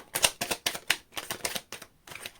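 Tarot cards being shuffled during a pick-a-card reading, a quick run of crisp riffling bursts and soft slaps repeating in close succession, near and fairly quiet with no talking.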